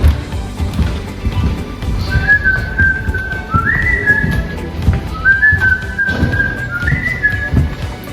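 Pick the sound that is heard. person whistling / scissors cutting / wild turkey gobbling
person whistling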